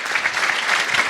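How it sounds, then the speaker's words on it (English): An audience at a cybersecurity event claps in a brief, steady burst of applause, close and fairly loud. "everybody, how about a round of applause for"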